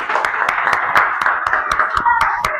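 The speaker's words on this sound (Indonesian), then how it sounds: "Kasih tepuk tangan." Classroom group clapping after a student presentation in an Islamic religious education lesson, a burst of quick sharp claps over a steady murmur of voices, fairly loud and close.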